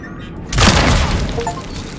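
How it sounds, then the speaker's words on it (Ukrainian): In the video game Cronos: The New Dawn, a burst of gunfire sets off a sudden loud explosion with a heavy booming impact that decays into rumbling debris, with a faint voice nearby. "І стріляємо."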